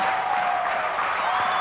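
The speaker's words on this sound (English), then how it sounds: "listen to the crowd" Crowd at the 1993 NCAA Women's Division II volleyball championship match between Northern Michigan and CSU-Bakersfield cheers and applauds loudly in a steady, dense roar of clapping and shouting that fills the whole moment.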